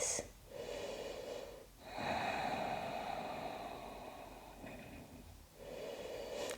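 Slow, deep breaths during a grounding yoga flow, long hushed inhales and exhales close to the mic, about three cycles separated by brief pauses.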